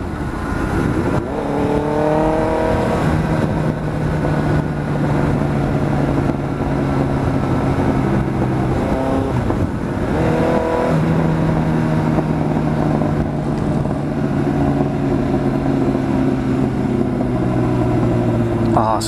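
Straight-piped Kawasaki Z900 motorcycle climbing a hill, its exhaust gurgling and rumbling loudly in a steady drone with rising and falling revs, while someone talks over it.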